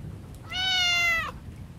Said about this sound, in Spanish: Es el gato con heterocromía.